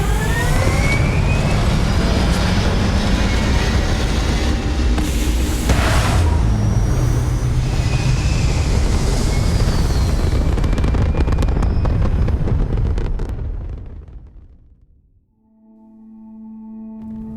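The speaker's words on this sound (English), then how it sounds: "All thrusters firing." Spaceship thrusters fire in Starfield with a loud, continuous roaring rumble full of crackle that holds steady for about thirteen seconds, then fades away, leaving a quiet electronic hum.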